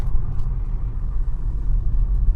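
A car moving slowly along a village road through dense forest, a steady low engine and road rumble heard from inside the vehicle, with no talk.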